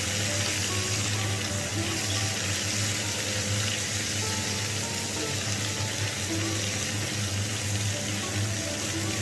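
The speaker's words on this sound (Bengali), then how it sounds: "হাইতে রেখেই সবজিগুলোকে আমি মিনিট দুয়েক ভেজে নেবো" Chopped bitter gourd leaf vegetables fry in a pan over a high gas flame, a dense, steady sizzle and hiss that holds without a break throughout.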